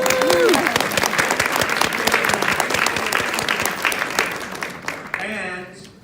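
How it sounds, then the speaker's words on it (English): Dense audience applause fills a hall during a speech by the New York City mayor, loud and continuous, with a voice speaking briefly at the start and again as the clapping fades near the end. "you can clap for pre-K"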